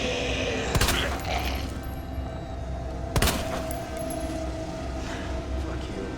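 Two sharp, loud gunshots ring out about two and a half seconds apart in the Resident Evil 2 video game, over a low, steady ambient hum.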